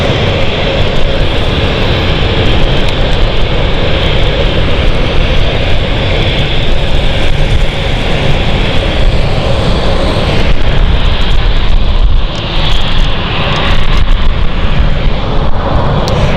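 A KLM airliner rolls at London City Airport, its engines giving a loud, continuous roar with broadband rumble that swells and shifts throughout, with no talk over it.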